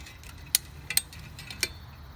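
A field fence stretcher being ratcheted while building a hobby farm fence, giving three sharp, separate metallic clicks spaced across a couple of seconds, close by against a quiet background.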